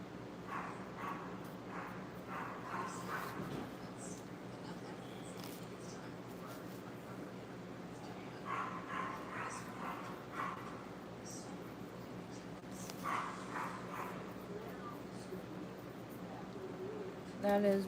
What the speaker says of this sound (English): That is my neighbor's dog.